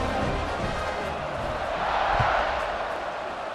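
A large football stadium crowd at a Michigan vs USC game roars steadily just before a kickoff, a dense, continuous wash of cheering and whooping that swells slightly midway and stays loud throughout.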